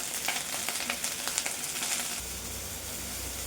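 Spinach fries in oil with a dense, continuous hiss close by and a few light stirring scrapes early on, then the sizzle evens out over a low background hum, with no talking.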